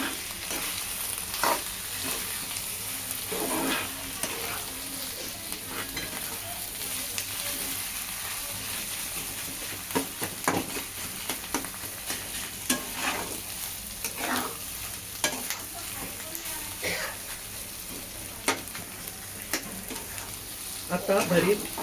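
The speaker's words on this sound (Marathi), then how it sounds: "आपण हे सगळं व्यवस्थित परतून घेऊया" Baingan bharta, a mashed roasted eggplant dish mixed with crushed peanuts, sizzles steadily in a pan while being stirred, with soft scraping strokes recurring over a continuous low frying hiss.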